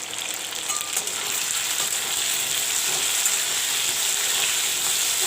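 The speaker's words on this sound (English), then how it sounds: "Now I will put in the potatoes to fry." Potatoes sizzling in hot oil with turmeric powder in a pan for a cabbage jhal, a continuous bright crackling hiss that stays loud and even throughout, with no talking over it.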